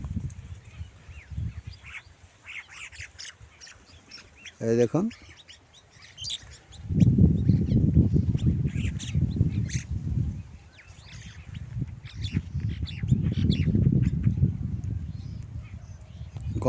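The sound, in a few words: winter birds in field: egrets, mynas, drongos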